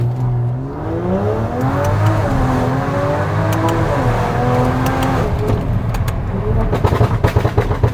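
A modified BMW X5 with a Stage 2 tune, about 500 bhp and a pops exhaust launches from a standstill. The engine revs hard and accelerates with rising harmonic whine through gear changes, loud and close, ending in sharp crackling pops.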